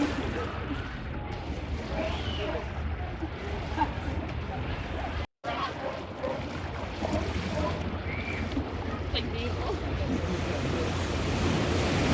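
Ocean waves break steadily at a beach, a continuous broadband wash of surf roaring close to the microphone with wind noise mixed in and no talk.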